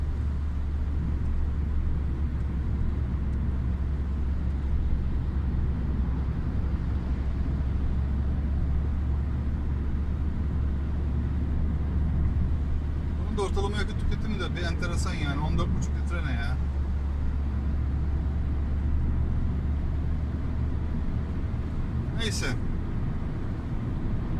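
A Fiat Egea drives along a motorway at about 80 km/h in fourth gear near 2500 rpm, a steady low engine and road drone filling the cabin throughout, with brief bursts of other noise partway through.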